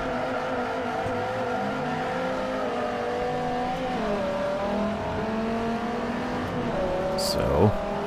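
Race car engines from Forza Motorsport 4 rev and accelerate at the start of a race at Maple Valley Reverse, with rising and falling engine tones layered together, a brief tire squeal near the end, and someone talking over them.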